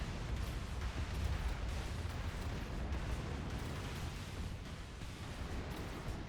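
An enemy Guardian ship exploding in the space strategy game AI War 2, heard as a sustained, heavy rumbling roar of blasts with steady low-end weight throughout, fairly distant and without voices.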